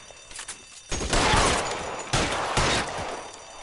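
Bursts of Tommy gun fire from a gunfight in LA Noire, loud, dense automatic volleys that start after a quiet lead-in and surge again near the end.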